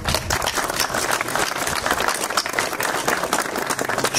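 An audience applauds a guest at a commemorative event honoring aviator general Andrei Popovici, producing steady, dense clapping close by that lasts the whole time.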